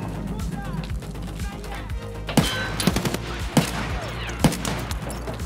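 Gunshots and grenade blasts in the video game Escape from Tarkov: sharp, loud reports ring out in an irregular burst sequence, with several strong impacts over a steady low game rumble and a speaking voice.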